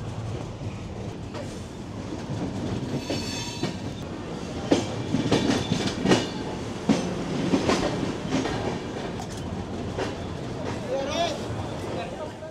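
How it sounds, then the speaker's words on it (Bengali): Vande Bharat express train pulling into Kalyan station, a steady rumble with clattering wheels and occasional squeals, while people talk nearby. "ট্রেন ঢুকছে কল্যাণ।"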